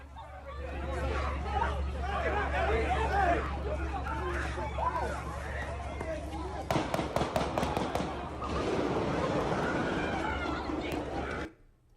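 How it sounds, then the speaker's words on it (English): Rapid bursts of sharp cracking shots ring out in the middle of the clip over a noisy crowd with chatter and shouting throughout. "the sound of rapid gunfire could be heard in the background"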